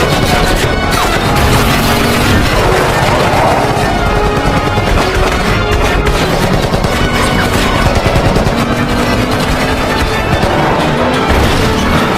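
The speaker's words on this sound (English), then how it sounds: "Bennett and Morgan open fire on the other car, blasting it with bullets" In a movie car chase, gunmen blast another car with dense, continuous gunfire: rapid bursts and impacts crowd together with crashing and booming under a loud action soundtrack.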